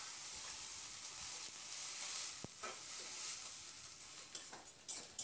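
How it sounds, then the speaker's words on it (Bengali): Onion frying for a Bengali bhindi (okra) recipe, a steady close sizzle in the pan with occasional scrapes and knocks as it is stirred, no talking. "পেঁয়াজটা দেখুন বন্ধুরা মিনিট 2-3 মতো আমি নাড়াচাড়া করে ভেজে নিয়েছি"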